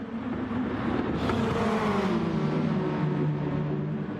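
Race car engines roar through a Gran Turismo Sport video game race, a steady loud drone with a rising whine as one car keeps full power after going wide, engine pitch sliding and sustained throughout.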